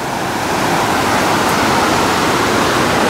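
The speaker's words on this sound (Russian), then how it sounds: "Очень большие волны." Big waves roll onto a beach at a Phan Thiet hotel in Vietnam, a steady, loud broadband roar of surf with no voices.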